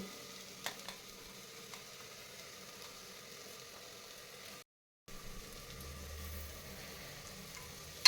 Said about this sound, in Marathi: आणि हे बीटसुद्धा या मसाल्यामध्ये भाजून घ्यायचं आहे